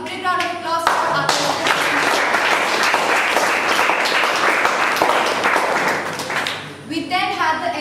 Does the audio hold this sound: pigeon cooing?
no